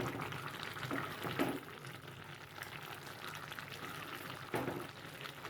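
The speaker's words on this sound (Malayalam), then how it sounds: "ഇത് കണ്ടോ, നല്ല അടിപൊളിയായിട്ട് തിളയ്ക്കുന്നുണ്ടോ" A pot of koozhuva fish peera, made with river koozhuva, bubbles at a soft, steady boil, with a couple of brief louder splutters or stirring clinks over the low simmer.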